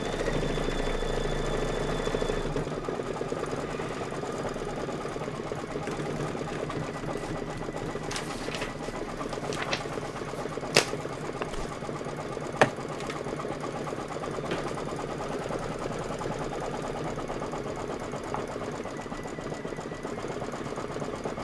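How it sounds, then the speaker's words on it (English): An embroidery sewing machine runs a satin stitch, a continuous close mechanical whir with rapid needle chatter and a couple of sharp clicks, steady throughout. "Just go ahead and hit start and do your satin stitch."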